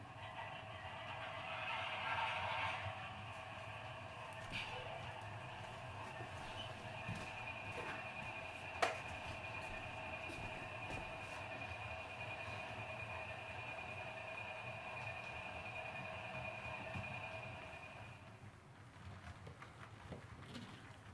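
Model railroad auto rack cars roll along a layout with a steady metallic running rumble and a sustained whine, plus a sharp click partway through; the sound stays fairly constant, then fades near the end.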